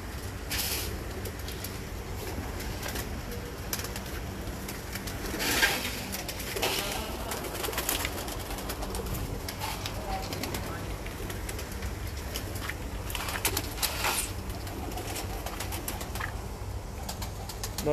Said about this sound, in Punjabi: ਜੀ ਬਹੁਤ ਆਲਾ ਕਬੂਤਰ ਜੇ